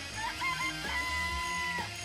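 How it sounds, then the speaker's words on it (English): Chickens cluck in a coop in the video game Danganronpa, short fowl calls over a steady tonal game background lasting about two seconds. "I remember there were some chickens in the chicken coop."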